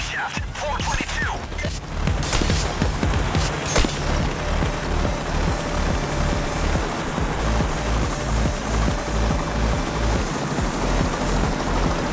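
A helicopter in the video game Payday: The Heist drones loudly and continuously with rhythmic rotor thumping, mixed with crashes and game noise throughout.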